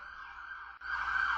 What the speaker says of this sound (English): I'll give it a sec for that siren.